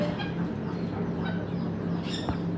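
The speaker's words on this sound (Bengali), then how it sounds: "এই সামনেটা হচ্ছে মোরগ" A fancy-breed rooster clucks and calls at a farm selling ornamental birds, a few short, faint vocal bursts over quiet background hum with no talking.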